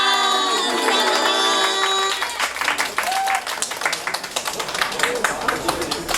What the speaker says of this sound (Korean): 우리 다시 한번 우리 라니에게 큰 박수 한번 보내주세요